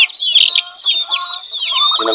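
Plymouth Rock chickens separated into their own pen cluck loudly and close, a busy run of overlapping clucks and squawks without any talking.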